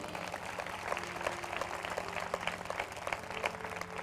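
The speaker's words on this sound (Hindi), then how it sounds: "क्यों ना प्रभु के लिए ताली बजाए।" A church congregation claps for the Lord during a Hindi sermon, with scattered, moderately faint applause continuing steadily throughout.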